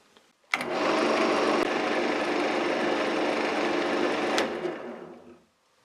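A thin, flexible drill bit bores into a wooden bead, a steady high-pitched motor whine with broadband cutting noise running about four seconds alone, starting and stopping abruptly.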